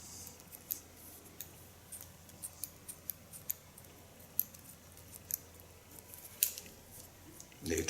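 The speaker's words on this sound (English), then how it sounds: "I just play with my scissors" Hair scissors snip again and again in a quick, irregular rhythm while a stylist trims a short pixie haircut. The crisp metallic clicks are close but fairly quiet over a soft background.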